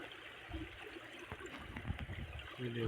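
Water tipped out of a gold prospecting pan beside a stream, a soft splashing trickle over a steady background of flowing water, with a few low murmurs of talk toward the end.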